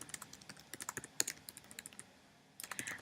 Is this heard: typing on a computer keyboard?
yes